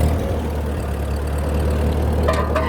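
A tractor engine runs at a steady, loud, low idle with a continuous rumble, and a couple of faint clicks or knocks come near the end.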